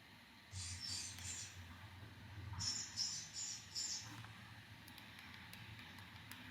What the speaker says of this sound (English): So basically it's bird sounds.